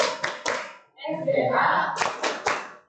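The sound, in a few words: hand clapping in a classroom clap game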